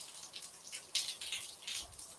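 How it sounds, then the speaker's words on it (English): Steady rain falls outdoors on a cold Thanksgiving day, with soft, continuous patter and hiss like something frying, a close and even wash with no talking. "with the rain in the background, it sounds like you're frying it"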